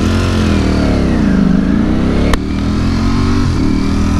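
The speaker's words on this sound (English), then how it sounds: "I can hear the dry clutch on the right-handers" Ducati Streetfighter V4 SP motorcycle running on the road with its dry clutch rattling, a steady loud mid-pitched engine drone with a brief sharp tick partway through and a slight dip in pitch near the end.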